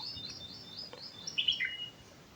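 A few high, thin bird chirps ring out against a quiet background, with a short cluster of brighter tweets in the middle.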